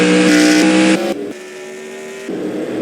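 NASCAR race cars on the Charlotte Roval circuit in a racing game roar loudly and close with high, buzzing engine notes that shift in pitch as they pass and change gears, with no talk.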